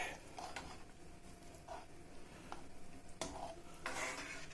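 A spoon stirs white vermicelli soup (chorba) in a pot, giving faint, soft scraping and light clinks against the pot walls over a low simmering hiss, quiet and close.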